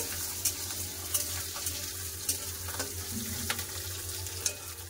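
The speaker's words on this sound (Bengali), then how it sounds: "আদা, দুটো কাঁচা লঙ্কা, ভালো করে ভেজে নেব।" Garlic, ginger and two green chillies fry in a pan for matar paneer, a steady close sizzle over low hum with sporadic scraping stirs and clinks of a spatula.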